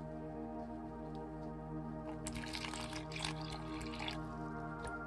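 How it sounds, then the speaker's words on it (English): Water poured from a container to refill a pet tarantula's water dish inside its enclosure, a short soft trickle over a steady low hum, briefly louder in the middle before tapering off. "I'm gonna refill her water dish"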